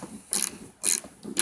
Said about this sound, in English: these bolts are coming apart pretty good